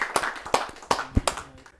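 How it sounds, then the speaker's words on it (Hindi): Scattered hand claps ring out at a poetry recital as a poet is welcomed, several distinct sharp claps spaced unevenly rather than a full crowd roar, fairly close and alone. "आइए जोरदार तालियों से उन्हें बुलाते हैं।"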